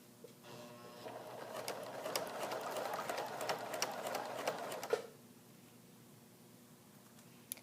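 A sewing machine zigzag-stitching elastic into a shorts waistband runs in a steady close whirring burst for about four seconds, then stops, leaving quiet room tone.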